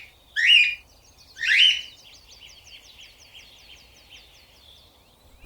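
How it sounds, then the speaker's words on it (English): Parrots call in the Amazon, macaws, Amazon parrots and short-tailed parrots among them. Two loud, harsh squawks come close together, followed by a series of fainter repeated chirps in the background. "Flocks of macaws, Amazon parrots, and short-tailed parrots gather here."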